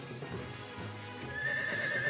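A horse whinnies in the Majikoi visual novel game, with hoof clip-clops underneath. The neigh is brief and fairly faint, heard alone without talk.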